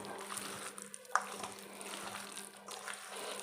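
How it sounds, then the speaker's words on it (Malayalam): Water trickling and dripping as washed chicken drains in a perforated vessel, a faint, soft splashing close by with a brief clink, no talking. "ഈ ഓട്ടയുള്ള പാത്രത്തിനകത്ത് വെച്ച് വെള്ളം നന്നായിട്ട് വാർന്നതിന് ശേഷം"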